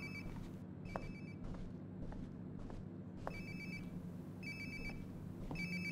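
A mobile phone rings nearby in the video game Life is Strange: Before the Storm, with a repeating electronic ringtone pattern over a low ambient hum and a few soft thuds.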